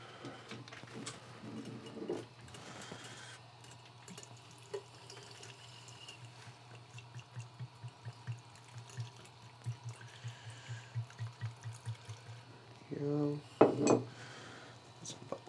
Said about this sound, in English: Now we're gonna put our stabilizer in here.